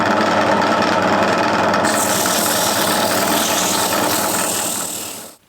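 A wood lathe spins a bowl blank at speed, a loud steady whirring hum with rubbing texture, brightening partway through, then winding down and cutting off at the end.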